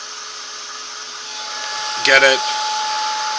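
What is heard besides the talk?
heat tool blowing hot air over marker coloring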